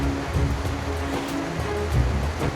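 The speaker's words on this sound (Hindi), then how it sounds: "ये पहाड़ों के ऊपर से बर्फ़ पिघल के आ रही है, ये उसका पानी है।" Cold snowmelt stream pouring down from the mountains near Gilgit, Pakistan, a steady broadband rush of flowing water with slight swells, continuous and fairly close, no voices.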